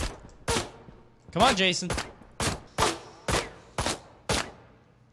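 Video game gunfire rings out as about eight sharp, loud shots in a loose, uneven rhythm, with a short burst of rapid fire near the middle and brief speech in between.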